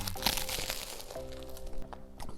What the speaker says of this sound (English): That iceberg lettuce gives like that crunch and a bit of nuttiness